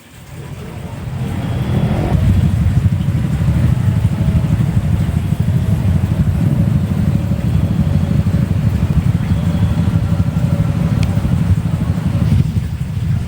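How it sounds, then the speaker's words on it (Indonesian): Continuous roar of road traffic on the Pantura Cirebon arterial road in Indonesia, with homebound holiday motorcycle engines droning past nearby, steady and loud after a brief rise at the start. "Pemudik motor kembali memadati jalur arteri Pantura Cirebon."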